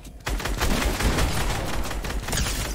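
Rapid gunfire in a battle royale video game, a loud burst of closely spaced shots that runs continuously for a few seconds.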